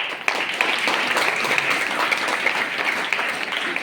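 An audience at a birthday gathering at a monastery applauds, a dense sustained burst of many hands clapping at once, loud and close, holding steady without a break.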